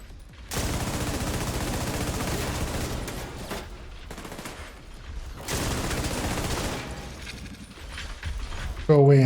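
Sustained fire-support gunfire in a video game roars in two long, dense bursts of rapid shots separated by a brief lull, loud and close, with a short tonal game sound at the end.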